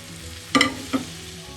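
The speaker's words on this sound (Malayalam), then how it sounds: "നമുക്ക് അരിഞ്ഞ് വെച്ചിരിക്കുന്ന ബീൻസും കൊടുക്കാം." Chopped beans drop into masala frying in a pan for a beans and potato dish, making two quick sizzling bursts against a quiet background.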